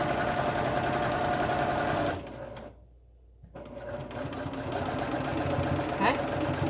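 Domestic sewing machine stitching fabric for a reversible face mask, a steady loud motor whir that cuts out briefly to near silence mid-clip, then resumes running continuously.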